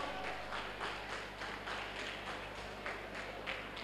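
Applause at a chess tournament prize distribution greets a 10th-prize winner in the 1100–1399 rating category. An audience claps in a steady, moderately distant wash with regular swells, and no voices are heard over it.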